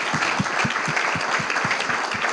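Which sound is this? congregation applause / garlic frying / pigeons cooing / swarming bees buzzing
congregation applause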